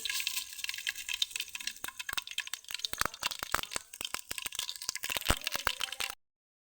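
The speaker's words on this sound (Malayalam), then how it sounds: "അപ്പോൾ ആദ്യം തന്നെ കടുക് ഇട്ട് കൊടുക്കാം." Mustard seeds spluttering in hot ghee and coconut oil in a catering kitchen: a fast, irregular string of sharp pops and crackles, fairly close and moderately loud, stopping abruptly.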